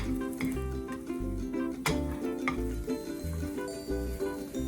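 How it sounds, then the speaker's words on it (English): Omurice egg edges searing in a hot pan: a steady close sizzle with stirring and light scraping running throughout, plus a few sharper clinks. No talking. "We're just actually searing the edge, basically is what we're doing."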